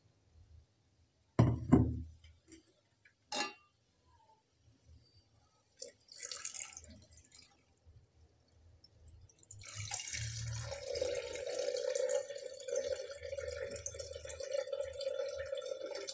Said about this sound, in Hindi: अब मैं इसमें पानी ऐड करने जा रही हूँ।